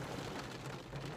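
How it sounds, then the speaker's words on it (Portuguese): A heavy storm downpour starting near a cemetery in Pedreira, São Paulo, a dense, steady roar of rain with a low rumbling undertone and no voices. "já começou a chover agora o temporal"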